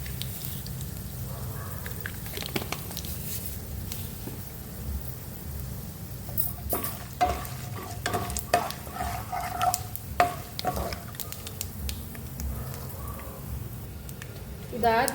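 Mustard seeds frying in oil for avalakki lemon chitranna, a soft, steady sizzle with scattered pops and stirring clatter, moderately close and fairly quiet.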